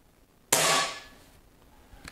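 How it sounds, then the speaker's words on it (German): A single sharp, close crack of a Reximex RP air rifle shot with a brief bright burst that quickly decays into quiet. "das war mittlerweile der 10. Schuss."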